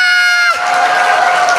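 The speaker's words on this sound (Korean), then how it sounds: "박수를 더 세게 쳐야 돼. 우리는 더 세게 치고 소리 질러!" A church congregation claps hard and shouts in a sustained, loud, crowded burst, with a tonal sound fading out at the start before the massed cheering and clapping take over.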